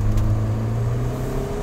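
A Mini Cooper S engine drones steadily under hard acceleration, a loud, close, continuous low rumble heard from inside the car with no talking.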